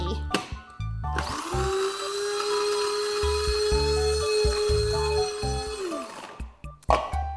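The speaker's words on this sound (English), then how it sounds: "I keep trying to make the coffee grinder work." A coffee grinder chops nuts for baklava, a loud steady whirring motor run of about four and a half seconds with brief starts and clatter on either side.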